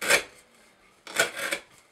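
A CRKT Shenanigan knife with Acuto steel slices through rope in two rasping, sawing strokes, each a short burst of close, gritty friction separated by a brief quiet pause.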